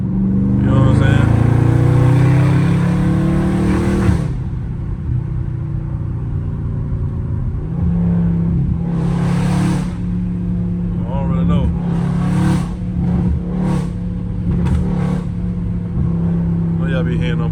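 Dodge Charger Scat Pack driving with a loud, deep exhaust rumble that swells under acceleration, broken by bursts of crackling pops, with someone talking throughout.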